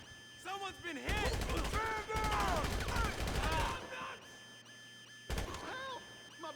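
Rapid automatic gunfire bursts in GTA Online, loud and close, firing in two long volleys and a short final burst, with shouting voices in between.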